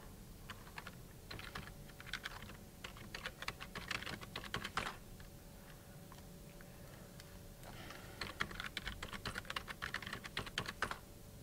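Password being typed on a computer keyboard during a command-line client installation: two bursts of quick, uneven key clicks, close and fairly quiet, separated by a short pause, with no talking.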